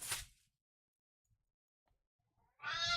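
A cat meows twice, one brief cry at the start and another near the end, close and fairly loud, with quiet room silence between.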